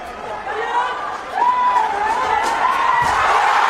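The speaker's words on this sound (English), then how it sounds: "The manner in which that point was earned has suddenly injected more energy into the crowd." A crowd at an India versus Japan gold medal final roars and cheers after a point, a dense sustained swell of voices that grows louder partway through and stays full.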